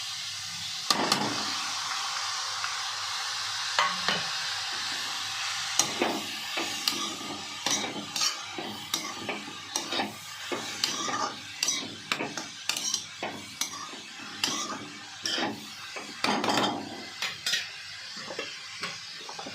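Soaked chana dal tipped into a pan with finely chopped cabbage and stirred, with repeated scraping and clattering spoon strokes against the pan that grow more rhythmic, over a light sizzle and with no talking.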